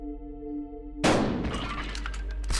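A double-barrel shotgun fires in the video game Buckshot Roulette, one sudden loud blast that cuts off a steady humming tone, then rattling debris and a lingering tail, with a second sharp crack near the end.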